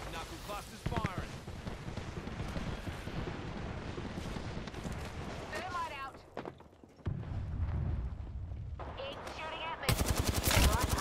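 Fuse's Knuckle Cluster launcher and other weapons fire in Apex Legends, dense bursts of gunshots and explosive cracks that briefly drop out, then return with rapid rattling fire, with a voice talking over parts.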